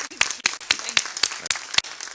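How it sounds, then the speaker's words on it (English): A small group claps in a quick, uneven patter of applause, fairly close, with no voices standing out. "We owe her a great round of applause"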